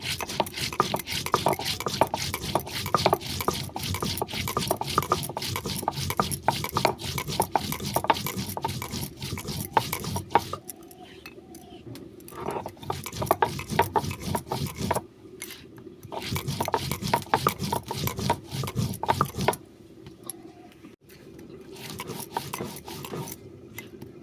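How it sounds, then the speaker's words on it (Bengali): Spices are ground by hand on a stone for a tamarind pabda fish curry, making rhythmic, close rasping strokes that repeat steadily with brief pauses, without any talking. "চলো সমস্ত মশলা আলাদা আলাদা করে বাটা হয়ে গেছে"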